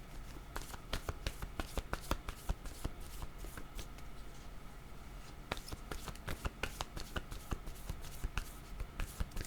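Tarot cards shuffled by hand at close range: a steady run of quick, crisp riffling clicks and soft slaps repeating over the whole stretch, with brief pauses between bursts and no voices.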